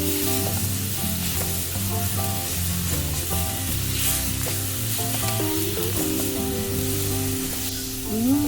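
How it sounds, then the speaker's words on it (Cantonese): Shredded fermented black bean dace hits a hot wok beside broccoli, frying with a strong continuous sizzle over steady background music with tonal notes. "再將撕碎咗嘅豆豉鯪魚倒落嚟， 爆一爆香佢。"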